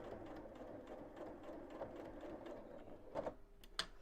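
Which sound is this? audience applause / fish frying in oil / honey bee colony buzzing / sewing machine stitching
sewing machine stitching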